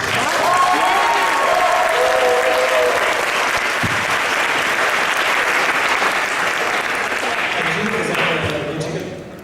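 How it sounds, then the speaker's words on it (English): An audience at the Middle States Academy & Honors Institute 2014 gives loud, sustained applause that holds steady for several seconds. A few scattered cheers and voices rise over it before it tapers off at the end. "give yourselves a round of applause"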